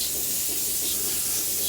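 Avocado oil sprayed from an aerosol can onto a spatchcocked turkey before smoking, a steady broadband hiss lasting the whole short moment, close and fairly loud with no pauses.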